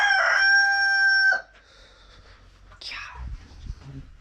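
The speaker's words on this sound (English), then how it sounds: "God, chicken's always interrupting me." A rooster on a farm crows loudly and close by in one long drawn-out call, followed by quieter rustling and scattered low sounds.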